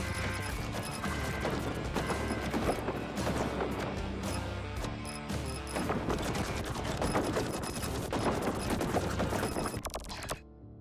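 Dense, relentless machine gun fire in the mech game Mercenary Battle Company, rapid overlapping bursts mixed with crashes and impacts, loud and continuous throughout before cutting off at the very end.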